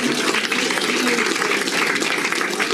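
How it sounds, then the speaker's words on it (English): Applause at a Falls Area Chamber of Commerce spring awards gala, a steady wash of clapping from a room full of people, even and sustained throughout with no pauses. "I would like to give a special round of applause to our Chamber ambassadors"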